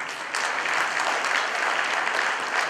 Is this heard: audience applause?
yes